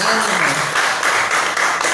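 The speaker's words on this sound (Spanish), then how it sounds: "vamos a recibir con fuertes aplausos a los ponentes" An audience welcomes the speakers with loud, sustained applause, dense clapping swelling in waves with faint voices mixed in.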